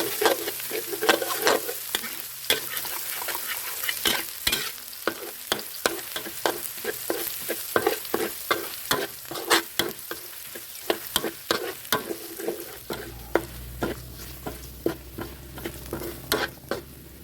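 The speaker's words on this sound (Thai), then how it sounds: "จากนั้นก็นำกระเทียมสับลงไปผัดให้หอมก่อนครับ" Chopped garlic stir-fries in vegetable oil in a pan, with a steady bright sizzle under repeated close scrapes and taps of the stirring utensil at an even rhythm, and a low hum joining near the end.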